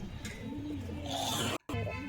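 Pigeons, a pair of local Giribaz tumblers bought at Beldanga market, coo softly and steadily at close range, with a brief dropout near the end.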